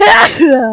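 A woman gives a sudden, loud, close sneeze with a sharp breathy burst that slides into a voiced tail, ending in laughter.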